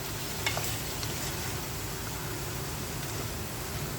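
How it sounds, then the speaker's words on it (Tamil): Chicken curry with coconut sautéed on high flame in a kadai with a handle, giving a dense, even sizzle with occasional scraping stirs, close and continuous. "இப்போ கொஞ்ச நேரம் இதை ஹை ஃப்ளேமில் வச்சு இப்படி சாட் பண்ணுங்கள் கொஞ்ச நேரம்."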